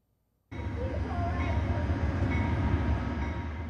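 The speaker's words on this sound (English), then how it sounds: "It's an example of a passenger train, the subject of this video clip." Amtrak Empire Builder passenger train rolling past, with a loud, steady rumble and rattle of wheels and cars that begins abruptly after a short silence and keeps going throughout.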